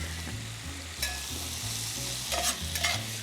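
Leeks sauté in a hot pan with a steady sizzle, and stirring scrapes come through at regular intervals. The sound is close and continuous, and nobody talks.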